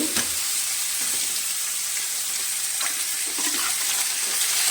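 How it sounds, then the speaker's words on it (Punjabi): Finely chopped potatoes fry on a low flame in a pan for a potato bhurji, giving a steady, dense sizzle that runs unbroken throughout with faint stirring scrapes and no speech. "ਬਸ ਜੀ ਹੁਣ ਅਸੀਂ ਪਾ ਦਾਂਗੇ ਜਿਹੜੇ ਅਸੀਂ ਆਲੂ ਕੱਟ ਕੇ ਰੱਖੇ ਹੋਏ ਨੇ ਬਰੀਕ ਬਰੀਕ"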